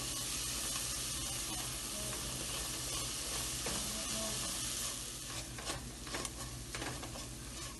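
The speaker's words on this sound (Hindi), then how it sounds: "इसको भी थोड़ी देर तक भूनेंगे।" Sesame seeds roasting in a hot pan, a continuous close sizzle with scraping stirring strokes growing more distinct toward the end, no one speaking.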